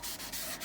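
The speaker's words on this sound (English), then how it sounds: "I'm just going to sand down just one side, you know, just the shiny side." Sandpaper rubs the shiny side of a piece of packaging in several steady back-and-forth strokes, close up and loud, with no other sound.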